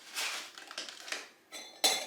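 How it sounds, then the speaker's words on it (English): A metal spoon scoops dry oats and clinks against glass jars, giving a few scraping, rattling strokes and then a bright, sharp clink near the end, close and fairly quiet, with no voices. "We're going to add the oats to the jars. I'll probably add about a tablespoon to each jar."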